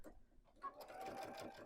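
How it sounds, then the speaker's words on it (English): A sewing machine stitches down quilt binding at a mitred corner in one short, quiet burst of rapid needle whirring, with no voices. "sew that down"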